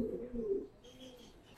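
Pigeons in a rooftop loft giving a low, throaty coo up close, followed by a fainter coo and a few soft chirps as it fades.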